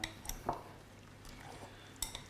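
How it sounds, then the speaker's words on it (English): A fork mashes avocado dip in a bowl, giving a few faint, scattered taps and soft scrapes with quiet gaps between them and no talking. "I just like to get in there with a fork and just start to mash it a little bit"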